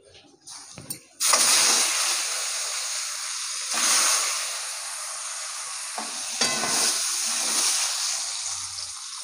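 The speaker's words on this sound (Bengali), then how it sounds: "ডিমগুলো এবার ভেজে নেবো" Peeled boiled eggs hit a hot pan for a Bengali egg masoor dal and burst into a loud, steady sizzle after a quiet first second, with a few brief surges of spattering along the way.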